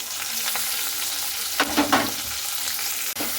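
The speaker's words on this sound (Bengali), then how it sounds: "এরপরে পেঁয়াজটা লাল লাল করে ভেজে নিতে হবে।" Chopped onion sizzles steadily in hot oil in a pan of bay leaves for a chicken dish, with a few louder bursts of stirring and scraping midway, close and without voices.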